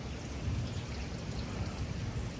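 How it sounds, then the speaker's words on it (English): Water trickles beneath heavy-duty weed barrier fabric laid over garden ground, a steady, low, rushing flow that stays constant without any voices over it. "See, water is coming from there,"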